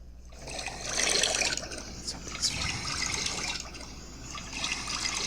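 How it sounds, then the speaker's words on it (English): Running water played back from an Instagram video with its water sound boosted, a steady trickling, pouring wash that swells and ebbs for about five seconds with no voices. "And then I think she enhanced the sound of the water as well."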